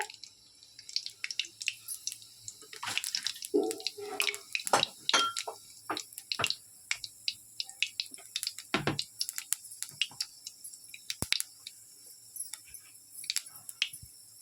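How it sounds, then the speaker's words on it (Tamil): Fennel seeds sizzling and crackling in hot oil in a pan while cooking a kada gravy, a dense patter of small pops and spits, close and fairly quiet, with no talk. "எண்ணெய் காய்ஞ்ச உடனே நம்ம வந்து கொஞ்சோண்டு சின்ன பெருஞ்சீரகம் போட போகிறோம்"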